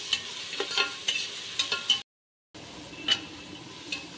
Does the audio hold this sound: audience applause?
no